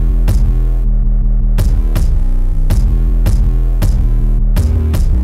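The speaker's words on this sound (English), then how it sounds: "on top of that, I layered a kick" A punchy carcass kick from a Vegan drum kit, layered over a booming 808 in an FL Studio trap beat: loud, repeated thumping hits over continuous deep bass, with brief dropouts in the highs, no voices.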